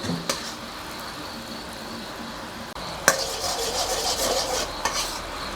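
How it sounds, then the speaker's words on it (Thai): Sweet fish sauce syrup stirred in a pan, with continuous scraping strokes over a soft simmering sizzle and a few louder scrapes and knocks against the pan, close up. "ต้องหมั่นคนนะคะ เพราะว่าเดี๋ยวน้ำตาลจะติดก้นกระทะนะคะ"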